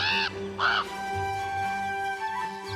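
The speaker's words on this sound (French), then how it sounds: "Parmi les oiseaux qui peuplent les grandes plaines d'Amérique du Nord, il y a le corbeau." A crow on the North American plains caws twice in quick succession, loud and near, followed by a sustained tonal background.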